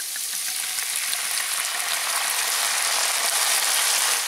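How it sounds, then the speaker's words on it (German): Garlic in a Dutch oven sizzles loudly after white wine is poured in, a steady, close hiss of bubbling liquid that stays even and intense throughout without any talk. "Jetzt nehmen wir den Weißwein und löschen damit ab."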